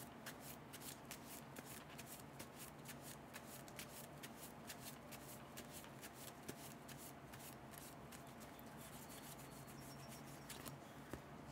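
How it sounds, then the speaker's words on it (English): A deck of Legendary Marvel deckbuilding game cards is shuffled by hand at a tabletop, quiet repeated riffling and flicking of cards in a rapid, continuous rhythm, close and soft with no voices. "Let's shuffle and draw"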